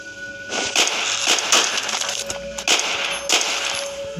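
Gunfire in a zombie shooter game set in Egypt, with bursts of sharp metallic shots and clanging hits over a low game soundscape, repeated several times in quick succession.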